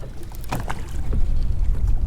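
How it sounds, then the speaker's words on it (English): Gusty wind buffeting a microphone while bass fishing, a steady low rumble with bursts of rushing noise, loud and close, no voices. "I hope the audio on this is not just shot, because it is way windy"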